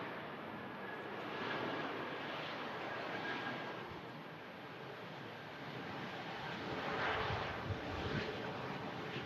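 Airliner landing at Manchester Airport during Storm Lilian, a steady broadband roar of engines and rushing wind that swells and fades across the clip, with gusty noise over the whole span.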